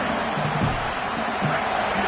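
A stadium crowd roars at an Indiana football game, a dense continuous wash of cheering with brief swells.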